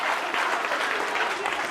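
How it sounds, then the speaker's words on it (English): A hall audience at a Christmas children's science lecture applauds the volunteers with dense, even clapping that fills the space for a short burst. "Big round of applause for our volunteers."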